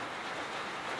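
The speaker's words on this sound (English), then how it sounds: "I believe you guys can hear it raining." Steady rain falls outside ahead of an incoming storm, a dense and even hiss of drops that holds without a break and has no talk over it.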